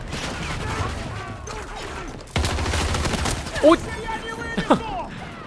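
Gunfire from an M16A3 rifle in the shooter game Battlefield 2042, heard as dense bursts of shots and impacts in a busy combat mix, loud and close, with a voice talking over it.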